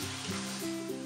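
Prawns with powdered garlic and tomato sauce being stirred in a pan, giving a steady close sizzle and frying hiss with soft scraping of the stir underneath.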